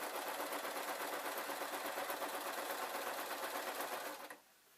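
A sewing machine stitches fabric for a pumpkin outfit, running in a fast, steady, close buzz for about four seconds before stopping abruptly.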